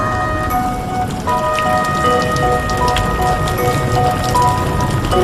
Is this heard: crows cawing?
no